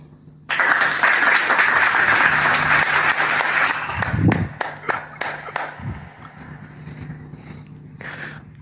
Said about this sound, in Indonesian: berikan tepuk tangan yang gemuruh untuk Bang Neplos